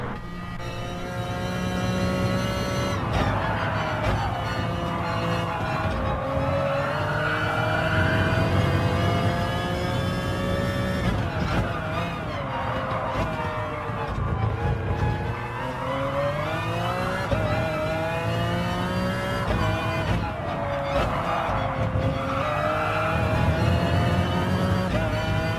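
A race car engine lapping Brands Hatch in Gran Turismo Sport, loud and continuous, its pitch climbing through the gears and dropping under braking again and again over a full stretch of track.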